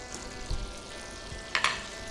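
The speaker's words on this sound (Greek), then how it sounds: "Την ώρα που λιώνει το βούτυρο" Lurpak butter melts in a pot with a soft, steady sizzle and a faint crackle, with a couple of brief clinks from the pan partway through.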